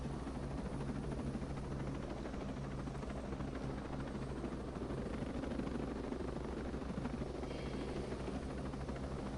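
Steady, loud helicopter rotor and engine drone from a military video game, continuous throughout with no talk, a dense low thrum and constant broadband wash.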